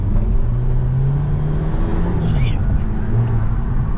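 A 2013 VW Jetta GLI with a stage 1 tune accelerates, heard from inside the cabin as a steady loud engine drone and rumble that rises slightly in pitch, with people talking over it.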